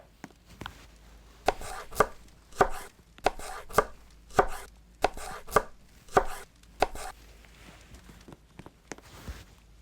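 Carrot being chopped in the Roblox game Berry Avenue, a run of about a dozen sharp, evenly spaced knife knocks on a board, close and crisp against a quiet background, with no talk.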